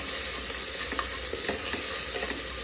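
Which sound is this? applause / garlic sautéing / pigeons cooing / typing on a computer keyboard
garlic sautéing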